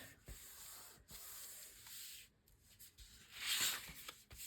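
Cardboard from a homemade mailer is folded along a score line, giving a soft, continuous rubbing and scraping, close to the microphone, with a brighter crinkling swell near the end.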